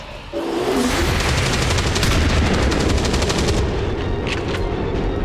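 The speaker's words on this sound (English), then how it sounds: "It's a bit of a waste to use the shotgun for this" A shotgun fires on overwatch in XCOM 2, a loud blast at the start followed by a dense, sustained roar of gunfire and crackling rattle, with a few sharp high snaps near the end.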